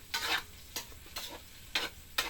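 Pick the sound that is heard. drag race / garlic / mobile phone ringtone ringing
garlic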